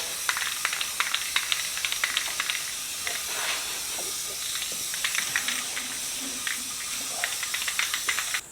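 Rust-Oleum crystal clear enamel hisses steadily from a spray can onto bells made from gas cylinders, a close, continuous aerosol spray with faint rattling ticks through it.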